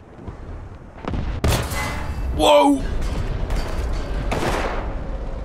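Artillery fire in War Thunder thunders in several close, loud booms and blasts over a tank battle rumble, while a man briefly exclaims.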